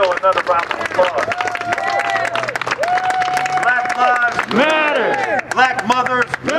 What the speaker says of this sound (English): Give Mateo another round of applause.